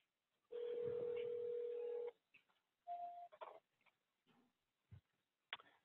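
Business phone system pickup tone after pressing the pickup button, a steady electronic tone of about one and a half seconds followed by brief beeps and clicks at low level.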